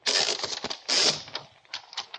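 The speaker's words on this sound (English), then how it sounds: "Take it out of the typewriter." Paper pulled from a typewriter in an old-time radio detective drama, two quick close ratcheting zips of the platen followed by a few light clicks and rustles.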